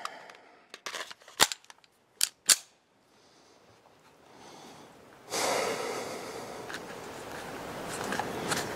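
Sig P229 pistol firing, with several sharp close shots in quick succession, followed by a broader rush of noise.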